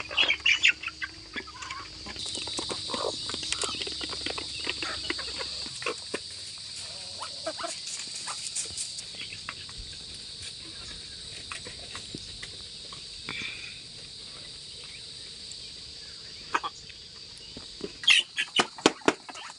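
Chickens and small chicks are fed outdoors, with continuous clucking and peeping, scattered pecking and rustling, and a few louder sharp knocks near the end.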